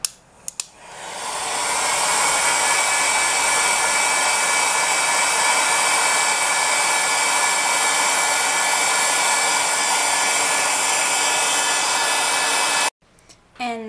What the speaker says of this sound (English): So I'm going to take a heat gun and just show you what it looks like once it dries.